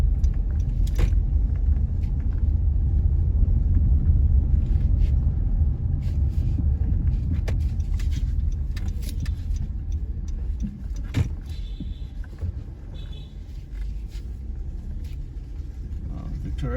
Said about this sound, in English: So many cars are here.